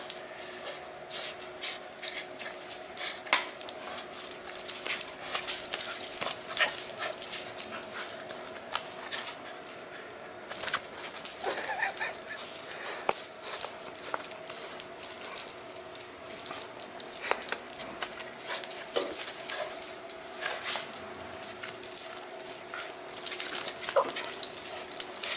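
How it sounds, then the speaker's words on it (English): Small, heavily muscled female dog whimpering and yipping in repeated high whines and short yelps, close and persistent over about twenty-five seconds with snuffling between. "She's a tiny dog, but she's like 20 pounds of solid muscle."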